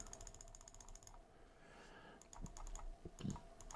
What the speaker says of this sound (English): now I'm just clicking random buttons